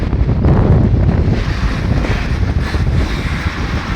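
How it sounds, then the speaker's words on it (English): Strong wind buffets the microphone beside a road in Uganda, a loud continuous low rumble and roar that covers everything else. "oh my god, the wind."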